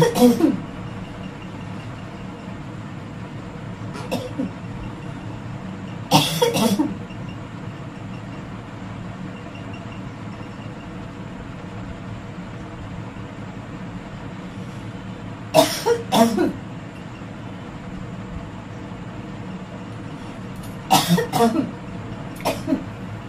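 Several short fits of coughing at intervals, with a low rumble in the background between them.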